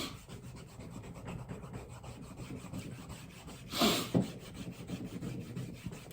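A GD straight razor is honed on a sharpening stone, producing close, steady rhythmic rasping strokes that gradually pick up pace, with one brief louder scrape partway through.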